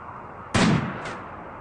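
A single loud gunshot from a long-range shot in a video game, a sharp blast with a decaying rumble and a fainter second echo-like burst about half a second later.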